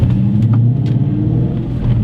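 A 1994 Mustang Cobra with a Coyote 5.0 V8 swap idles with a deep, steady, loud rumble, close by and continuous, with no talking.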